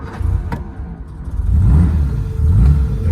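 A 1958 Jaguar XK150S Roadster starting from stone cold, a loud close engine that turns over and catches into a deep rumbling idle, then a rising rev.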